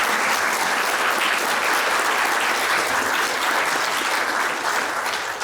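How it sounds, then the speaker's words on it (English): Sustained applause from a large crowd at a dental school town hall, dense and steady clapping throughout with no pauses, loud and close. "So I want to really give an applause to Peter."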